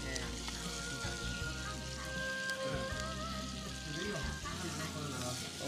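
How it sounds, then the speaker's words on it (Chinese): Spinach stir-frying in lard with chili in a wok at a very basic Shandong eatery, a loud, steady sizzle and crackle with stirring scrapes close by, and occasional background voices. "用这种猪油炒出来菜是不是香？"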